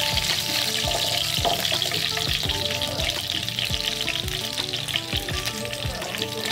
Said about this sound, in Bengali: আর মাছগুলো আমি এভাবে ভেজে নিব।